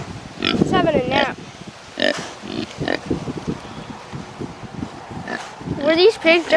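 Farm pigs grunt in short bursts on a windy day, close by and mixed with wind noise and people talking over them.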